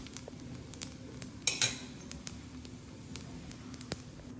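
A spoon stirs ghee-roasted vermicelli through boiled milk in a metal pot, giving soft wet swishes and irregular clinks and taps against the rim, close and moderately quiet over a low background hum.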